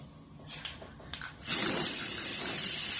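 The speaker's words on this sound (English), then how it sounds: "Right, we give it a quick spray of" After a few faint clicks, a steady, loud aerosol spray hisses continuously for over a second, close up.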